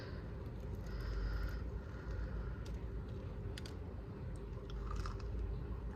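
Close chewing of a bite of homemade cinnamon sugar sourdough bread, soft crunchy bites repeating over a steady low rumble, no talk.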